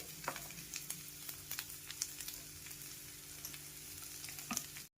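Spices and small potatoes are tossed together in a hot pan, sizzling steadily. Repeated short scraping stirs come at a brisk rhythm, close and fairly quiet, and no one speaks.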